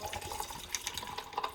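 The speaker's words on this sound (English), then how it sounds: "you didn't even get to see the pour" A drink pours into a cup with a steady, light liquid trickle and splash running throughout, close and fairly quiet, with faint drips near the end and no talking.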